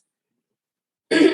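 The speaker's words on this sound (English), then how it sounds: "I had to clear my throat." A single short throat clearing bursts out of silence near the end, close and fairly loud.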